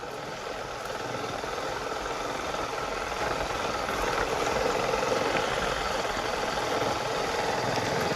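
Vehicle engine idling as it pulls over at a roadside, a steady close rumble with constant vibration and no break throughout.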